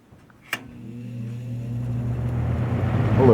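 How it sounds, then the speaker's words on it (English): A 1998/99 Lasko box fan motor starts up on its high setting: a click, then a low hum that rises steadily in pitch and loudness as the blades spin up, heard alone and close. "I'll give you the sound of the motor, startup sound."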